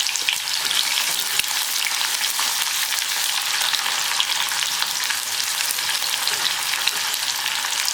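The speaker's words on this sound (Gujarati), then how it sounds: "ઓનિયનને મીડિયમ આંચે આપણે ઉમેરી અને સાંતળવાની છે।" Onion and garlic sautéing over medium heat in a pan, a loud continuous hiss and crackle that holds steady throughout, with faint stirring and no voices.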